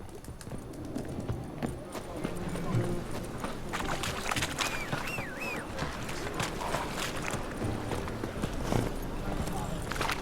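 Roach, a horse in The Witcher 3, galloping with rapid, continuous hoofbeats at moderate loudness, over a busy background with people talking.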